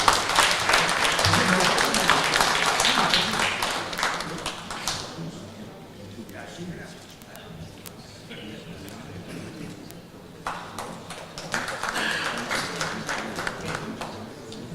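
Audience applauding at the prize ceremony of an international bridge championship finals, a dense sustained clapping that thins out midway and then swells again toward the end.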